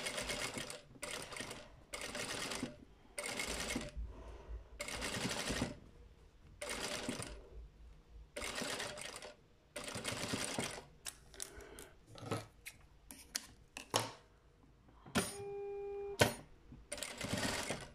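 A sewing machine stitches a small clown outfit for a Blythe doll in fast, steady whirring runs broken by short pauses, with lighter clicks and starts toward the end, close and clear with no talking.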